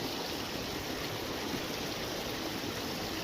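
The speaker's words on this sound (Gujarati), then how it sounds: "ખેતરોમાં પાણી વહેતા થયા છે" Rainwater runs through farm fields after a downpour, a steady, close rushing flow like a stream that continues without any voices.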